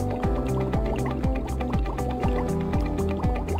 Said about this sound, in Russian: Ну вот, Бубу, запрыгивай теперь в ванну